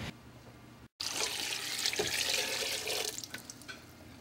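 Water poured into a soup pot of butternut squash, onions, coconut milk, garlic, thyme, ginger and curry, a steady splashing gush lasting about three seconds after a brief pause, close and alone.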